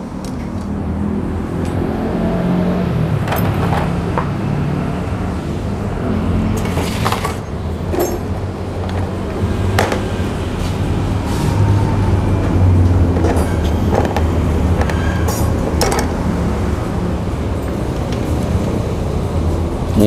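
A motorcycle engine runs steadily just after a new camshaft has been installed, giving a continuous, loud, rough mechanical roar with no clear pauses throughout.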